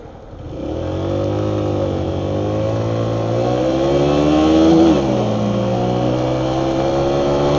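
A car accelerating hard while racing another vehicle, its close, loud engine note climbing steadily in pitch through the gears, with a brief dip and renewed rise near the end.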